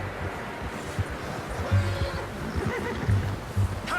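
A horse in Red Dead Redemption 2 whinnies and snorts, with a few louder neighing bursts near the middle and end over a low rumbling game background.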